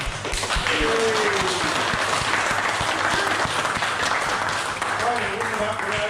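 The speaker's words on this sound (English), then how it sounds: "a massive round of applause to you guys for making this work" Audience applause at the Wynnfest fishing festival in Thailand, a dense steady wash of many hands clapping at full volume throughout, with voices cheering and calling out over the clapping.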